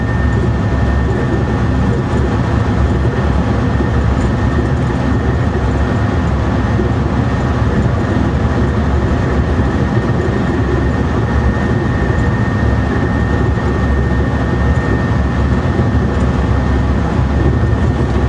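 A Thalys TGV high-speed train on the Paris Nord to Köln run, heard from inside as a loud, constant low rumble and roar of wheels on rail, unbroken and steady throughout.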